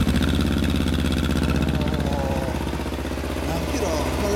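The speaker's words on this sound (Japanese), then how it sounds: "エンジンマフラーのサウンド聞かせてもらえる？" A 2017 Kawasaki Ninja 250 motorcycle runs near the microphone through a Beet Nassert aftermarket muffler, giving a steady, throbbing idle with a slight rise in revs, while people talk over it.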